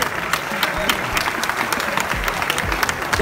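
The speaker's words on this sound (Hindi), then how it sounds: "उनके लिए भी भरपूर ताली बजा दीजिएगा" A theatre audience at the Arts Council of Pakistan in Karachi claps loudly and steadily after a drama, a dense crowd patter with scattered sharper hand slaps and faint crowd murmur underneath.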